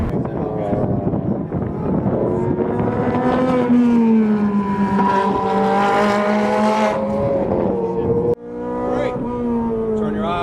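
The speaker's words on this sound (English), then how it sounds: "So here's my fastest lap in the 430 Scuderia." Ferrari 430 Scuderia lapping hard on a race track, its engine wailing loudly from inside the car with rising and falling revs and wind rush. An abrupt shift cut comes near the end, and speech joins over the engine.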